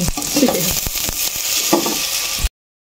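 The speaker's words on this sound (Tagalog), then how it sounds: "Nilagay na rin po natin yung bigas." Rice goes into a cooking pot for lugaw, giving a hissing sizzle with quick rattling clicks and stirring sounds nearby. It stops abruptly after about two and a half seconds.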